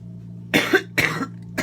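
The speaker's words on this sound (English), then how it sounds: "It doesn't hurt when I cough anymore." Three harsh coughs in close succession from a smoker recovering from the flu, close and fairly loud, each a rough burst separated by short pauses over a low steady hum.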